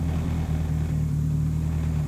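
A car fitted with a boom tube exhaust idles loudly, a deep, steady droning rumble that holds constant throughout, close and dominant with no other sounds.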